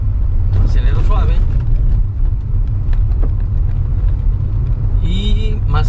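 A car accelerates gently in second gear on a neighborhood street lined with speed bumps, giving a steady, close low engine rumble throughout, with faint voice-like sounds in the background.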